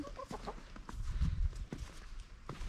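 Backyard chickens outdoors in snow give soft short clucks and murmurs, close by and fairly quiet, with light footsteps or scratching between them.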